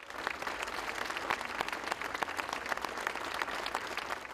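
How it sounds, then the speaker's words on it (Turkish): Healthcare workers applaud in protest of a bombing at a memorial ceremony for blast victims at Çapa: steady, dense clapping from a sizable group, continuous and even throughout, with no voices standing out. "sağlıkçılar alkışlarla bombalı saldırıyı protesto etti"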